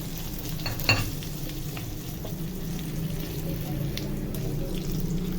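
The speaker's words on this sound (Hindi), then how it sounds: "ये तड़का कितना मजेदार तैयार हो रहा है, कितनी प्यारी खुशबू आ रही है असली घी की।" Cumin, green chillies and curry leaves sizzling in hot ghee for dal tadka, a steady crackling hiss with a brief stir or clink early on.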